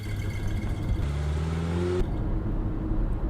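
A car pulls away, its engine rising in pitch as it revs and accelerates, then dropping off abruptly as it leaves; moderate loudness with no talk.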